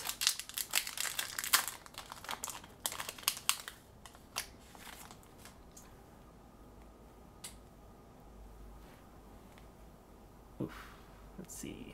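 Foil wrappers of Pokemon Celebrations card packs crinkle and tear open in dense, close bursts, thinning into sparse handling clicks and rustles.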